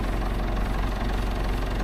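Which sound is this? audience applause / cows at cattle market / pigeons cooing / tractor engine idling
tractor engine idling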